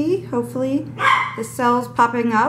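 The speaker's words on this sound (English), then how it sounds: "Sorry about the dogs." Several dogs bark repeatedly in loud, harmonic bursts nearby, with a person talking over the barking throughout.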